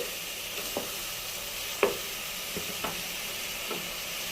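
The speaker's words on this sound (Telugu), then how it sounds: "ఈ వాటర్ పోయేంత వరకు కొంచెం ఆయిల్లోనే ఫ్రై చేసుకుంటే చికెన్ కొంచెం మెత్తబడుతుంది" Chicken frying in oil in a pot for biryani, releasing its water as it cooks. A steady hissing sizzle runs throughout, with a few sharp stirring scrapes and clinks over it.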